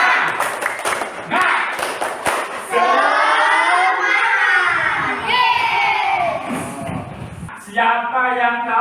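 A class of children shouts a lively spirit chant with rhythmic clapping, loud and close, voices rising together in sustained bursts with a few thumps and short pauses between phrases.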